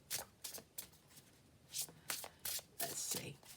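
An oracle card deck is shuffled by hand, several quick papery riffles and slaps in bursts, close and fairly soft, with brief pauses between.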